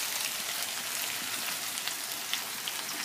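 Coarsely chopped garlic fries in hot oil in a pan for sausage shawarma, a dense, steady crackling sizzle with occasional sharper pops, close and continuous.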